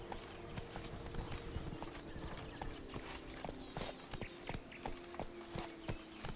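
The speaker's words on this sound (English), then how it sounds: "Run, Roach." Horse hooves clip-clop in a steady rapid rhythm in The Witcher 3 video game, with a faint whinny and game ambience behind the galloping, close and moderately loud throughout.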